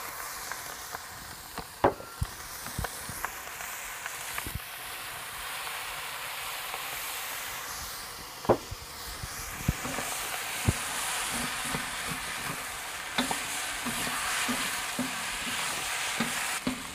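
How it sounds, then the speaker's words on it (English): Fried rice with seasoning and soy sauce being stirred in a wok on a Big Green Egg: steady loud sizzling with scraping stirs and occasional sharp clacks of the utensil throughout. "I'm going to add some of this fried rice seasoning, and then I'm going to add a little soy sauce, and we're going to mix that up"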